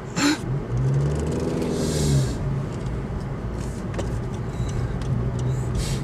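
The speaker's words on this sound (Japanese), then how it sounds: "今、ちゃんとエンジンかかりました。" A manual Honda Civic's 1.5-litre turbo engine idles with a steady low rumble and whir, a brief rev near the start, and a few faint bumps in the background.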